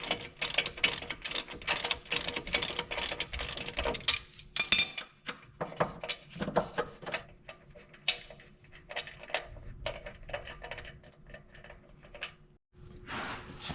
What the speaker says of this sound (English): remove the lower bolt. I'm going to use a 9/16 socket for that.